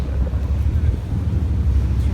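Strong wind on the Kuleli seashore at Beykoz buffets and rumbles heavily across the microphone, a loud low roar that never lets up.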